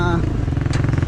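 A small gasoline engine on a mixer, being readied for use on a farm, runs with a steady low chugging throb that continues throughout, close and fairly loud.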